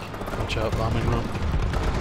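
Explosions from a bombing run in Call of Duty rumble in a dense, continuous barrage of booms, with voices talking over the blasts.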